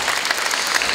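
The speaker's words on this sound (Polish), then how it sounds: "Bardzo brawa się należą Kacprowi." Audience applause at an awards ceremony honouring a young swimmer: steady, dense clapping from a crowd, held at an even, fairly loud level throughout with no voices over it.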